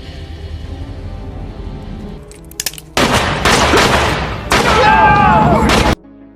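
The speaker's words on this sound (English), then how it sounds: "raised his gun, and shot him dead without hesitation" Gunfire sound effects burst out in loud, abrupt blasts, first a brief crackle and then two sustained roaring bursts that cut off sharply over a low rumbling score.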